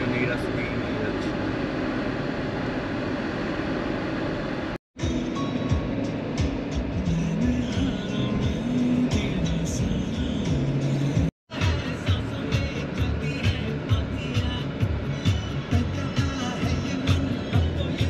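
Jeep Compass Trailhawk cruising along the Noida–Greater Noida Expressway, a steady cabin rumble of engine and road noise with two brief dropouts, while a voice talks over it throughout.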